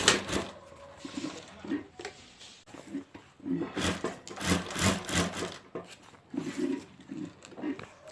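A home sewing machine stitches a handbag zip strip in several short runs of buzzing whir separated by pauses, with soft handling noises in between.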